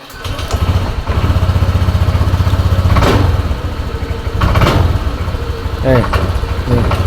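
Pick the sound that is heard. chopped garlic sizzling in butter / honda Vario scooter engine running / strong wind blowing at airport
honda Vario scooter engine running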